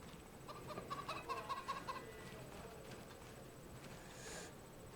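Chickens cluck faintly in Farming Simulator 25, a short run of soft clucks early on over a quiet background hum.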